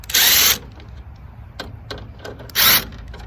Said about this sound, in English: thank the Lord for cordless power tools